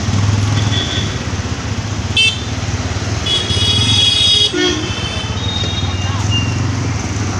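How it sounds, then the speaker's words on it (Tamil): Busy road traffic near a beach, with steady engine rumble from cars and motorcycles and a couple of short horn toots cutting through the close, loud mix. "அதெல்லாம் ஒரே டிராஃபிக்காக இருக்குது"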